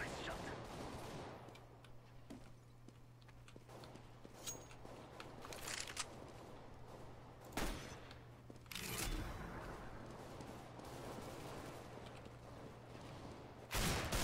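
Gunfire in the CS:GO video game, with scattered sharp shots and a few short bursts popping over a steady low hum, some loud and close, others fainter, with brief voice moments between them.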